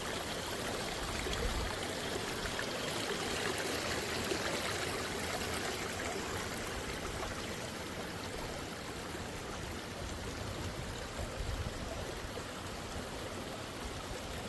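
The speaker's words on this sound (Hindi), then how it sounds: "इस गदेरे का जो पानी है वो इतना साफ शीशे की तरह है कि नीचे पत्थर भी बिल्कुल साफ दिखाई दे रहे हैं" Clear water of a small mountain stream flows steadily over stones, a soft, even rushing and trickling that stays faint and constant with no voices.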